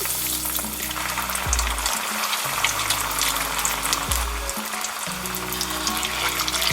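Kerala beef cutlets frying in hot oil in a cast iron pan over medium heat, a loud continuous sizzle with crackling spatter and a low hum that drops out briefly twice.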